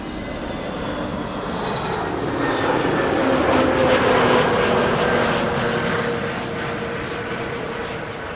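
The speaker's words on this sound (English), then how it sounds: "Flight 5358 arriving from Faro" Brand-new airliner arriving at Amsterdam Schiphol from Faro, a jet roar that builds, peaks at mid-clip and eases off as it passes overhead, with faint engine whine and no talk.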